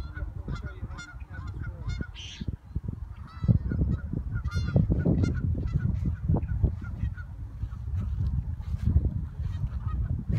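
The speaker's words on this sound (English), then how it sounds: "This is Henry chasing geese naked." Geese honk repeatedly and loudly while a small child chases them, the harsh calls coming in overlapping bursts over a busy, rumbling outdoor background.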